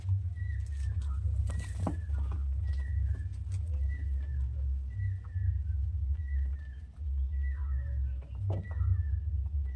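Rampuri and Golden pigeons cooing in a repeated series of soft calls over a constant low rumbling hum, with occasional faint knocks nearby.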